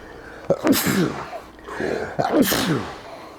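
Two sneezes in quick succession, each a sharp intake followed by a forceful burst, close and loud, separated by a short pause, during a casual gaming session.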